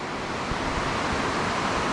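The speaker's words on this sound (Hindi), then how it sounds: "अभी जो भागीरथी नदी है रोड के बिल्कुल साथ साथ बह रही है" Steady broadband rushing of the Bhagirathi river flowing right beside a mountain road near Gangotri, Uttarakhand, a continuous even roar heard close and alone with no talk.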